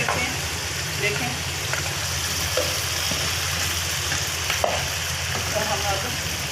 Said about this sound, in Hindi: चलिए अब हम इसमें भिंडी शामिल करते हैं।